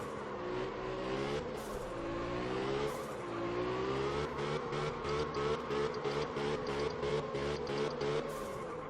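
A car engine in the drifting video game Absolute Drift revs up and down in long sweeps, then stutters in rapid repeated bursts, with faint tyre squeal underneath.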